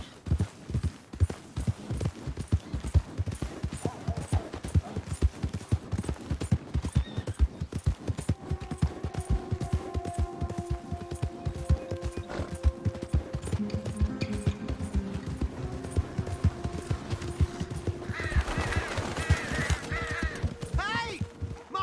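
Horse hooves clip-clop steadily in Red Dead Redemption 2, a brisk repeated rhythm close by, with a voice talking over it and a brief whinny-like sound near the end.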